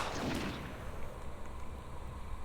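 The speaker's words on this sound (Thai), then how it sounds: "ถังระเบิด" An explosive barrel blows up in the video game Half-Life 2, a single sharp blast followed by a fading rumble over about two seconds.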